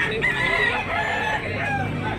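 A gamecock crows amid a noisy yard of fowl at a cockfighting venue in Tabunok, Talisay, Cebu, its call rising over a constant hubbub of other birds.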